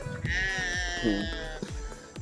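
Sheep on a farm bleat in a long, wavering call up close, followed by a shorter second bleat, with faint barnyard background noise around them.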